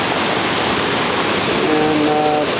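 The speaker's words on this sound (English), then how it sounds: "there's our new waterfall, and the big rolling hole there at the bottom of it" A flood-swollen waterfall pours into a stream, with a big rolling hole churning at its base, producing a loud, continuous broadband roar with faint bird calls barely showing through near the end.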